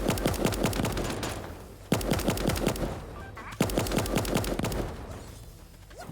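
Automatic weapons fire in Super Animal Royale comes in three long, rapid bursts separated by brief pauses, each a dense string of sharp, close shots.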